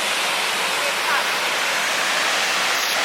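Waterfall at the Falls of Falloch: a steady, dense roar of falling water, close and loud, unbroken for the whole stretch.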